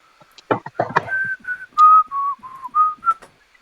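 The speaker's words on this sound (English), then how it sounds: "Probably shouldn't whistle into a mic." A person whistles a short, wavering tune straight into a microphone during a tabletop wargame livestream. A few quick chirps lead into sustained, loud, close notes with brief breaks between them.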